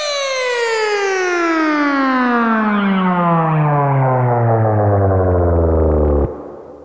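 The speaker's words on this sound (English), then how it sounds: "it's going to start off high, and it's going to quickly fall, and then it's going to, as you go through, it's going to fall slower and slower and slower" Synth pitch-bend sweep made in Ableton: a loud buzzy harmonic tone that starts high, drops quickly and then falls ever more slowly into a low rumble before cutting off.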